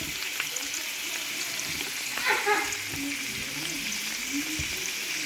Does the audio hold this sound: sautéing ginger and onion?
yes